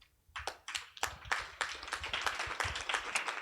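Clapping from a small audience at a talk on Greek career women, starting sparse and building into steady, fairly faint applause with no voices over it.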